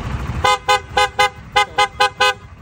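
A car's P-horn being tested honks in eight short, evenly spaced blasts, loud and close, with a brief pause midway through the sequence.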